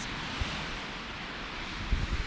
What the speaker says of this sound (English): you can hear the wind still